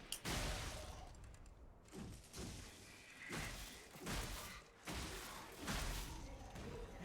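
In the Puppet Souls video game, cannons fire in a rapid series of about six or seven heavy, booming thuds, each with a rumbling tail.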